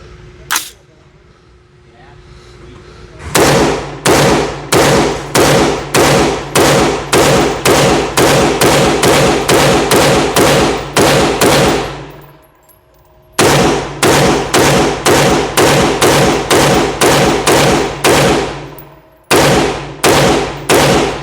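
Rapid semi-automatic rifle fire from UTG magazines from Leapers, two long strings of sharp, evenly spaced shots roughly a fifth of a second apart, loud and close, with a brief pause between magazines.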